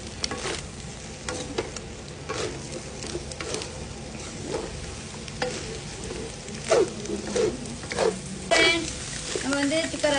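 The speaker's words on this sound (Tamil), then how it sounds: "போட்டு இந்த எண்ணெயோட கிண்டுங்க." Chili powder and beans stirred into hot oil, a low steady sizzle with intermittent spoon scrapes and knocks on the pan. A voice speaks at times over the cooking.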